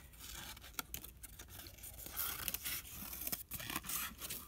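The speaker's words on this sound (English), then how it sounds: "just take your scissors and just cut some kind of a really weird wonky shape" Scissors cut scrap paper into a wonky craft shape up close, giving quiet, uneven snips and rustling scrapes with a few sharp clicks of the blades.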